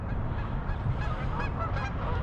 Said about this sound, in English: There goes all of our Canadian geese buddies.